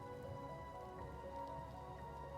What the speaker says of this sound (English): there is quite the heavy downpour of rain